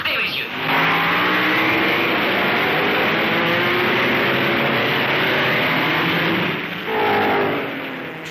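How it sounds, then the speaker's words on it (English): 1950s Grand Prix racing cars, a Lancia among them, accelerate on a fast European circuit, their loud sustained engine roar filling the clip, with a narrator speaking over it. "Fangio leads, but Castellotti's Lancia has out-accelerated Moss"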